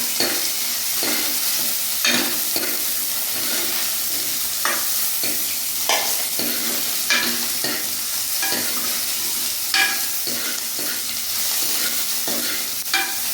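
Chopped onions sauté in a pan for an eggplant fry, a steady close sizzle broken by regular scraping strokes of a spoon stirring roughly every second, with no talking.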